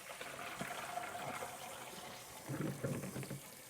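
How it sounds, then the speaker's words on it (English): Water pours and gushes out of a pot of rinsed chickpeas, sloshing steadily before a louder splash and glug near the end. "pour out the water."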